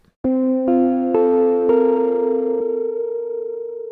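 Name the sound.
Soundpaint 1974 Jagra sustain layer with slight distortion, reverb, delay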